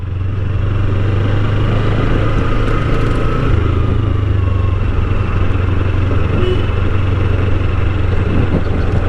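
Kawasaki Ninja 300 motorcycle rides along a road, its engine holding a steady, loud, close drone with a slight pitch shift midway, over continuous wind and road rumble, with no talking.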